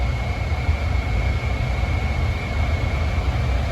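AirTrain car rolling along its track at JFK Airport, a steady loud low rumble with a thin constant whine above it, continuous and unbroken throughout.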